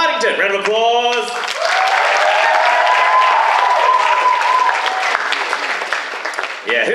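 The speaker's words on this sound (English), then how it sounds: "Round of applause." Audience applause fills the room at a RahCon 2015 cosplay competition, starting just after a short spoken line and holding strong for several seconds before tapering off, with a voice and cheers threaded through.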